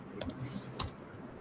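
Keys on a computer keyboard click a few times during a Linux terminal training class: two quick taps, a short pause, then one sharper strike, all fairly faint and close, with no talk over them.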